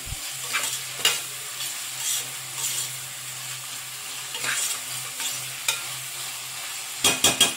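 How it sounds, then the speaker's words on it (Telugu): Ginger garlic paste is stirred in a frying pan, a soft sizzle under intermittent spoon scrapes, with a quick burst of clinking stirs at the end; close and moderate in level. "అల్లం వెల్లుల్లి పేస్ట్, వేసుకుని ఒకసారి బాగా కలిపేసుకోవాలి."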